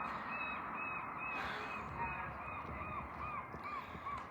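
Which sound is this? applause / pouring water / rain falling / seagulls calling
seagulls calling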